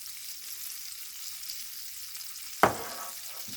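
Steak frying in olive oil in a pan, a quiet steady hiss broken by one sharp knock or clatter near the end, no voices.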